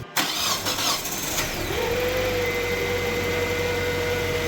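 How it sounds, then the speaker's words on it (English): A Kia Spectra engine cranks and fires up after a cylinder head replacement, then settles into a steady idle with a constant drone and a thin whine rising in partway through; no voices. "Now you got everything put back together, you're good to start it up."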